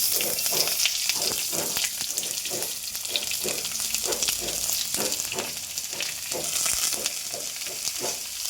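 Steady, dense sizzling of onions frying in hot coconut oil, with soft repeated stirring scrapes throughout; close and fairly loud, no voices.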